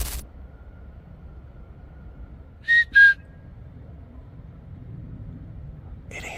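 A whistle sounds in dark woods at night, two short, clear, closely spaced blasts around the middle, loud against a quiet low rumble of background noise, with a brief faint click near the end.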